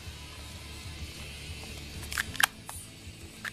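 A plastic battery cover on a mini RF remote is pressed shut with a few quick, close clicks and snaps after a quiet stretch of faint handling.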